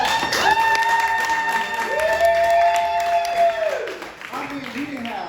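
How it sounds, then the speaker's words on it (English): An arena audience at a comedy show claps and cheers in a sustained wash of applause, with a voice and some tonal sound over the crowd before it tapers off. "Can I get a clap for that?"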